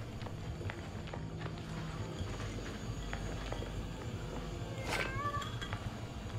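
A cat meows once in the Hello Neighbour 2 video game, a short rising cry heard near the end over a steady bed of game ambience with scattered soft thuds and steps.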